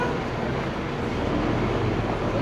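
A steady, loud rumble of an MRT train in the underground Pasar Seni station fills the whole stretch as a continuous broadband roar with no voices over it.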